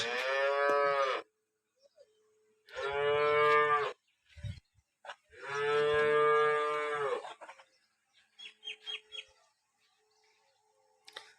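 Cows at a village cattle yard in Rah, Tharad taluka, Banaskantha give three long, loud moos separated by pauses, with a few faint bird chirps near the end.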